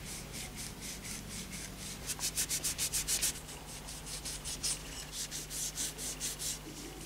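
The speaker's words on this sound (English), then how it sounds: "Just a rough cleaning with acetone to remove polishing compound residues." Small metal pieces are rubbed clean with acetone to strip polishing compound residue before nickel plating. Close, rhythmic scrubbing strokes speed up into a fast, steady back-and-forth run, then slow again, with no talking.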